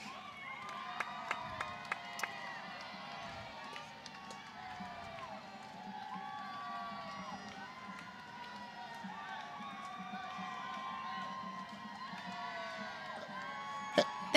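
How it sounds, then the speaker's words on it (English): Outdoor crowd at a 2014 homecoming parade, cheering, whooping and shouting in a steady mass with a few sharp claps early on and a loud burst at the very end. "Give them a big round of applause."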